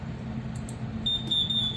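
A Transas ECDIS timer alarm on a ship's navigation display sounds as a thin, steady high electronic tone that starts partway through, over a low background hum with no talking.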